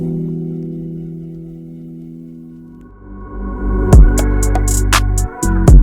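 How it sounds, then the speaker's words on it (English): A swelling, reversed-reverb tone fades and builds for a few seconds as everything drops out, then a punchy beat with heavy bass and crisp hits crashes in. "everything drops out and it reverses into the drop."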